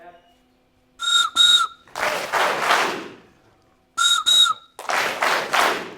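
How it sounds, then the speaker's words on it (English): A toy train whistle is blown in two paired bursts, each pair of sharp multi-tone toots followed by a rush of applause and cheering from a crowd at a talk. "All from a silly train whistle"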